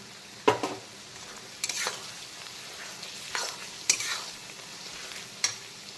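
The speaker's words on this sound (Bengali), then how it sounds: "এখন প্রায় 2-3 মিনিট হয়ে গেছে পেঁয়াজটাকে ভেজে নিয়েছি" Onions and slit green chillies sizzle in a pan of oil while a spoon stirs them, giving four sharp scraping strokes over a steady, fairly quiet frying hiss.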